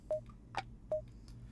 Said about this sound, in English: It's the phone. Call someone.